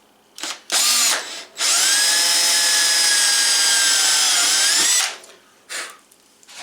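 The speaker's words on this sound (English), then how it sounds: "pre-drill our holes in the aluminum without going too deep in the woods" A power drill pre-drills holes in aluminum galley hatch trim on a teardrop trailer, running in short close bursts and then one long steady whir of about three seconds, followed by a final brief burst.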